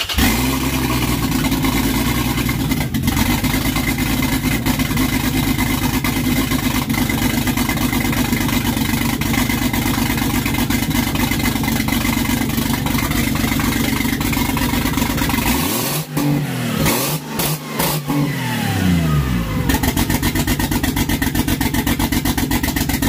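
A loud Lexus GS300 engine, a 2JZ-GE converted to single-turbo 2JZ-GTE, runs continuously at close range after starting, with a raw, rough tone and a brief rev that sweeps up and back down near the end.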